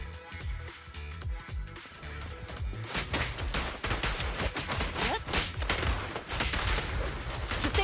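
Video game gunfire: a dense, sustained barrage of rapid shots and impacts, building in intensity and loud throughout, with no talk.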